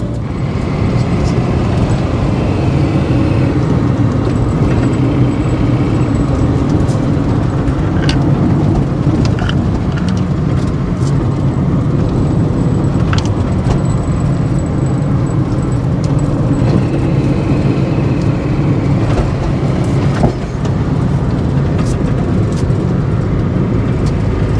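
A 1997 Honda Civic coupe on new tires drives along, its steady road rumble and engine drone loud and continuous from inside the cabin, with occasional faint clicks.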